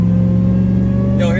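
A high-performance engine revs loudly with a steady whine, likely from a supercharger, a strong continuous drone throughout with a rising pitch near the end.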